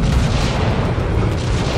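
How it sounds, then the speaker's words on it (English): A spaceship launches missiles in the Dreadnought video game, giving a loud, unbroken rumbling boom heavy in low end for under two seconds, with no voices. "Missiles have firing solution, Captain. Missiles away."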